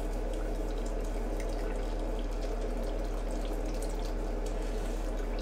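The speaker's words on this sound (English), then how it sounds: "so the flow of this water doesn't have to be much at all" Cold tap water feeds a Grainfather brewing setup while a pumpkin beer is brewed, a steady, even hiss of running water held close and constant throughout, with a low hum underneath.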